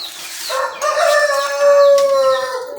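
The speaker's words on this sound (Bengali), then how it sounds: "ব্রাহ্মা ডাকছে ব্রাহ্মা আমেরিকান" An American Brahma chicken on a poultry farm gives a loud, drawn-out call that rises and holds steady for a couple of seconds, close and clear, with no talk over it.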